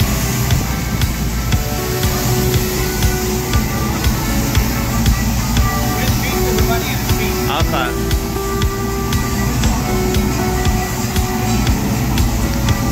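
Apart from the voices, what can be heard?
spraying water while washing a car at a car wash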